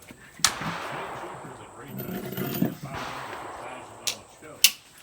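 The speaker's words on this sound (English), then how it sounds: "So we're going to bring in one Garand over to this table over here, and we're going to shoot it." Several sharp gunshots from an M1 Garand rifle fired at a table on a range, sharp isolated cracks spaced irregularly over a few seconds, with the last two close together, over a low background murmur.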